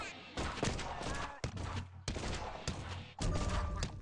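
Gunfire from rubber-bullet guns in the mobile game Gumslinger: loud, dense volleys of rapid shots with sharp transient cracks between bursts, with muffled voices underneath.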